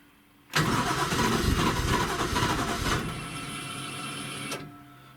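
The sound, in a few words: 1JZ engine struggling to start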